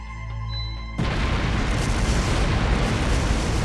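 Explosive artifacts scattered through a palace go off in the video game Trails through Daybreak: soft music gives way to a sudden loud blast that becomes a sustained, dense rumbling roar.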